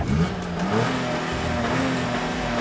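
A budget car engine, a Datsun Go or Suzuki S-Presso, revs at the start of a quarter-mile drag race, a steady mid-pitched drone with rising and falling pitch sweeps, heard from close by.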